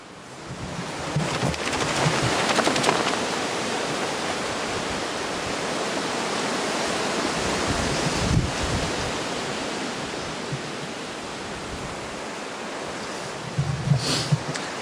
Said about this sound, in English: This wind is just getting stronger and stronger and stronger, and all above me is trees